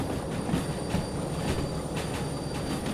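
Train braking on rails in the Derail Valley simulator, a steady rolling rumble with rhythmic wheel clacks and faint high metallic squeal from the brakes, close and continuous with no talk.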